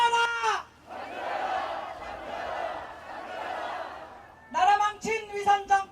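At a Liberty Korea Party protest rally in Sinchon, a large crowd roars a chanted slogan for several seconds. A leader's amplified shouting comes just before and just after the crowd's sustained, distant-sounding mass cry.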